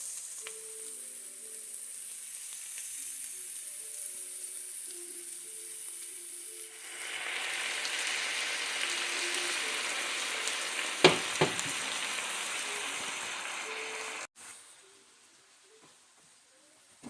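Soy sauce hitting a pan of frying pancit bihon rice noodles, with faint sizzling that swells into a louder, bright hiss, a couple of sharp clinks of a utensil, then a sudden drop back to a quiet simmer.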